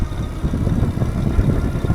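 A Lectric XP Trike2 electric trike climbs a hill under throttle, giving a low rumbling drone with wind buffeting and road rumble, loud and continuous; no speech.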